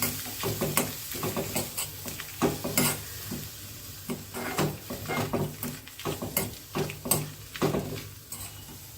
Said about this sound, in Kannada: ಅರ್ಧ ಕಪ್ ಆಗೋಷ್ಟು ಕಾಯಿ ತುರಿನ ಫ್ರೆಶ್ ಆಗಿರೋ ಕಾಯಿ ತುರಿನ ತಗೊಂಡಿದ್ದೀನಿ ಹಾಕಿ ಹುರ್ಕೊತಾ ಇದ್ದೀನಿ